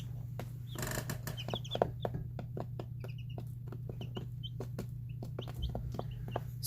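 Baby chicks in a sand-filled brooder, scattered soft chirps and clucks over a steady low hum, mixed with frequent light tapping and scratching as they dig through the sand.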